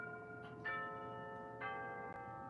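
A Rhythm antique clock sounds its chimes, with soft, resonant bell tones struck one after another in a slow, spaced pattern and ringing on with a long, clear decay at moderate volume in a quiet room.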